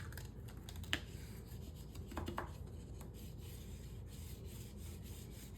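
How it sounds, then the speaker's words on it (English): A bone folder presses and rubs along paper pages of a handmade ship wheel mini album, producing quiet scraping strokes and a few light taps, close and soft, with no speech. "Now I'm going to use my bone folder here to get in between my pages to try to make sure that I press each of these down."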